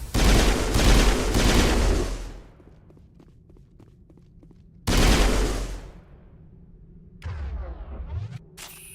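Rifle gunfire in Mass Effect, heard as two loud bursts of rapid shots separated by quiet gaps with faint footsteps and ticks, followed by a shorter mechanical whirring sweep near the end.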